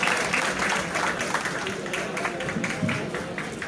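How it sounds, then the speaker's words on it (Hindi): Audience applause at an Urdu poetry recital, a steady wash of many hands clapping throughout with a murmur of voices mixed in, fairly loud and continuous. "आपकी भरपूर तालियों में"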